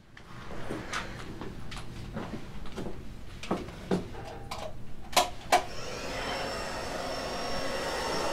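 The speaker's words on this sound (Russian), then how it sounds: "Фен." Hair dryer: a few scattered clicks and handling knocks, then the dryer switches on into a steady, moderately loud blowing whoosh that continues to the end.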